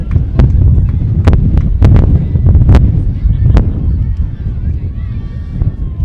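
Strong wind buffets the microphone outdoors at a softball game, a constant loud low rumble broken by sharp gusty thumps and cracks in the first few seconds, easing slightly near the end.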